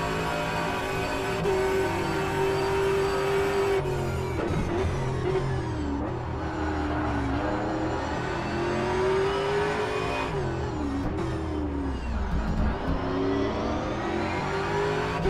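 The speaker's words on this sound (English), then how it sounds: "Here's the view from Max Sunderland's cockpit in the number 6 Ford Mustang Evo GT3." A Ford Mustang Evo GT3, car number 6, heard from the cockpit in a virtual sports-car race at Long Beach: a loud, steady engine drone that rises and falls through upshifts and revs for the whole stretch, with no talking.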